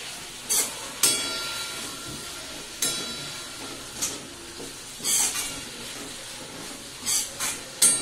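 Street-style veg chowmein noodles with vegetables and tomato and other sauces are stir-fried in a hot pan, a steady close sizzle broken by sharp metallic spatula clanks and scrapes at irregular intervals, with no one speaking.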